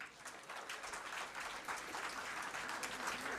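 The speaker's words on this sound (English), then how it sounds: "Give a big round of applause." Audience applause at a national housekeepers' convention, a fairly faint but continuous patter of many hands clapping that swells and eases slightly throughout.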